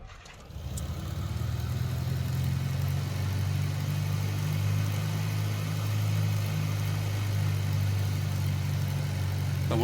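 A Piper Archer II single-piston aircraft engine idles at about 1,000 RPM in a flight simulator, starting up and then holding a steady, loud, low droning hum with constant rhythm and no talk.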